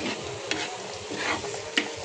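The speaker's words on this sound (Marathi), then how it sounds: "अशा प्रकारे आपण मिक्स करून चांगले फ्राय करून घेऊया भुर्जी." Egg bhurji sizzles and fries on a tawa while a spatula stirs it, a steady close hiss broken by two sharp scraping clicks, with no voices.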